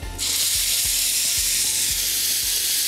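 Tomato paste hits a hot frying pan, sending up a loud, dense, continuous sizzle that starts abruptly and holds steady, with faint rhythmic scraping knocks from stirring repeating underneath.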